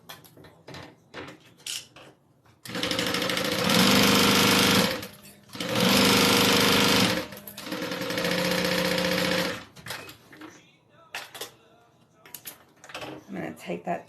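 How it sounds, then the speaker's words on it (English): Sewing machine stitching leather wallet panels for a Big B and half NCW wallet, running in three sustained bursts with short pauses between, loud and close, with light handling clicks before and after. "and then we'll sew them in place"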